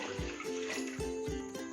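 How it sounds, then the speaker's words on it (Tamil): Milk is poured into a cooking pot while making sweet pongal, giving faint, rhythmic glugging splashes that repeat about every quarter second. "இன்னொரு டம்ளர் பால் சேர்த்துக்கிறேன்."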